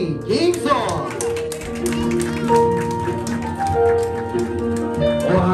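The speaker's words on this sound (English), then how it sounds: "Once again, guys, clap your hands for Lolo." An audience claps their hands for a grandfather at a family celebration, a busy patter of clapping mixed with voices and sustained musical tones.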